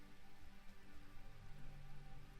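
Rain falls over farm crops in The Universim, a god game, as a faint, steady hiss of raindrops that runs without a break and without any voices.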